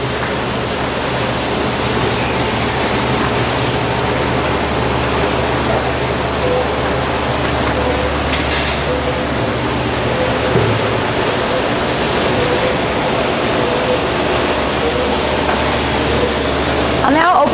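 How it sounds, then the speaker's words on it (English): A stainless steel fully jacketed single-shaft double ribbon blender runs with its liquid injection system, making a steady loud broadband rushing, spraying noise throughout. "I'll now demonstrate the liquid injection system."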